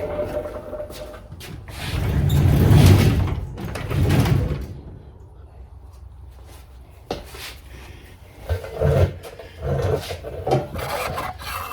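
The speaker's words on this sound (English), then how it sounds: "Let me close the door." A garage door is pulled shut in a home workshop, making a long, rough rubbing and sliding scrape with a few knocks and rattles at close range, and no one talks.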